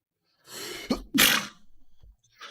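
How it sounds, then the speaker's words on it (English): A single close sneeze, a short intake followed by a sharp explosive burst, then a few quick breaths afterward. "Excuse me. I'm gonna sneeze."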